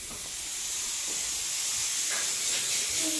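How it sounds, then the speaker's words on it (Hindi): A kitchen pressure cooker vents its whistle in a steady, rising hiss of steam that swells gradually and holds for several seconds, moderately loud and alone. "कुकर में सीटी आ गई"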